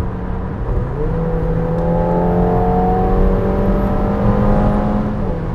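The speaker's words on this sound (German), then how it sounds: "Ja, jetzt wollen wir einmal durchbeschleunigen hier." A McLaren 720S Spider accelerating hard, its engine note climbing steadily through the revs in one long continuous pull, heard loud and close from inside the car with no talking.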